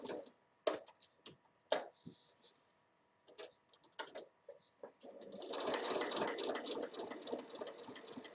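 A sewing machine stitching a pocket on a fabric backpack: a few short clicks and handling taps first, then a steady continuous whirring run of stitching in the second half, fairly quiet.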